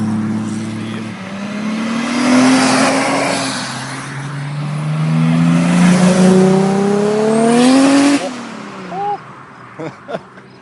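A TVR exotic sports car at an outdoor car show revs its exhaust hard, rising and falling in several loud, close pulls before a few sharp blips, with a voice talking faintly beneath.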